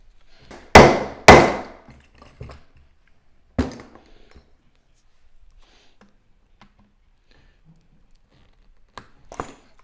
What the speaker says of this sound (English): I'm gonna go ahead and set this rivet.